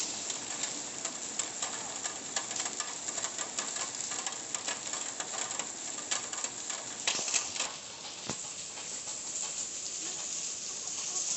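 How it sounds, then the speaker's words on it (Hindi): Rain falls steadily on a rainy day, a dense, even hiss that stays close and constant, with a few sharper taps and drips. "ये बारिश की बूंदें, ये गरजना बादलों का"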